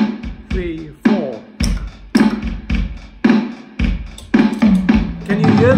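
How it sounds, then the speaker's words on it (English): A looped drum beat from a Boss RC-3 loop pedal and a BeatBuddy drum machine plays with a slight doubling, repeated loud hits landing in a steady rhythm, close and prominent with no talking. "Can you hear that slight doubling of the drum beat?"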